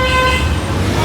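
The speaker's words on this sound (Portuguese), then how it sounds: "Cara, muita buzina," A car horn blares in a steady, loud, continuous honk amid road traffic on a busy street near the Jockey Club in Gávea, Rio de Janeiro.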